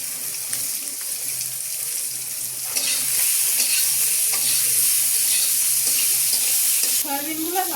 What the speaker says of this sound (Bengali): সয়াবিনগুলো ভাজা হয়ে গেছে,